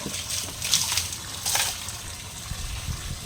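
Water splashing as things are washed and rinsed before Vishwakarma Puja, with two brief splashes close by over a low, steady background.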